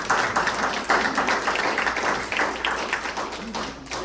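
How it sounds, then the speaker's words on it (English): A room of homeowners claps for a team, a loose, moderate round of applause with uneven bursts that gradually thins out, a few voices mixed in. "they all deserve one hell of a round of applause"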